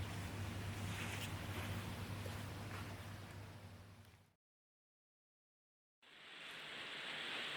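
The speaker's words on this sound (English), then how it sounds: "As you can probably hear, the rain is pouring down." Heavy rain pouring down outdoors as a steady, loud broadband hiss, cutting to near silence midway before resuming just as dense.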